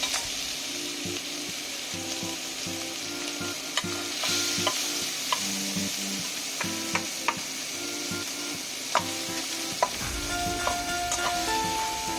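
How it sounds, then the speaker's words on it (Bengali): Prawns fry in a pan while a spatula stirs and cuts them, producing a constant sizzle broken by repeated sharp scraping taps and knocks against the metal. "চিংড়ি মাছগুলোকে আমি খুন্তি দিয়ে একটু টুকরো টুকরো করে কেটে নেব"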